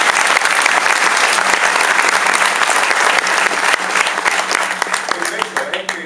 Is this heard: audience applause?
yes